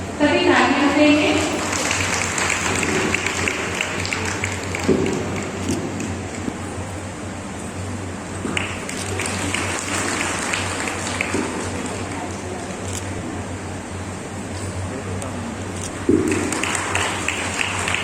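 Audience applause at an International Women's Day baby-shower ceremony: steady, dense clapping from a crowd that lasts throughout, with some voices mixed in and a low electrical hum underneath.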